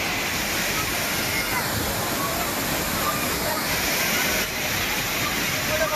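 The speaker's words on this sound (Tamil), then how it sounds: "திருப்பரப்பு அருவியில் தண்ணீர் மிதமான அளவில் கொட்டி வருகிறது" Water pours down the Thirparappu waterfall at a moderate flow, a dense continuous roar that holds steady throughout without obvious voices.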